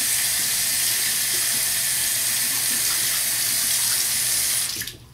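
Hot water runs steadily from a tap into a sink to warm a straight razor blade, a loud continuous splashing rush that cuts off abruptly near the end.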